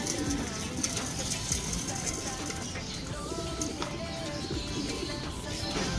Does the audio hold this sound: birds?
yes